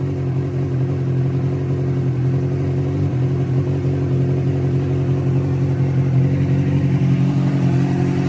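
A motorcycle engine runs at a steady idle, loud and close, with an even low throbbing rumble and faint mechanical clatter throughout.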